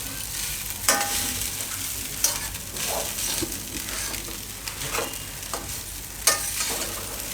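Suran poha with potato is stirred in a pan over a low gas flame, soft sizzling under repeated scraping strokes of a spoon, with a few sharper clacks against the pan.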